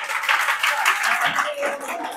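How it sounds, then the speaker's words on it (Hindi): A group of students clapping for a classmate in a classroom, a steady burst of applause lasting a couple of seconds at moderate volume, with some voices mixed in. "जोरदार ताली बजा दो लड़के के लिए"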